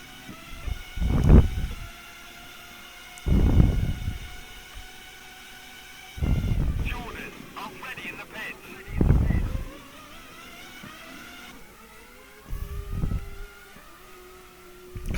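F1 racing cars in a 2002-season France sprint race in a video game, heard as engine roars that rise and shift pitch through the gears in repeated bursts. A commentator's voice runs between them.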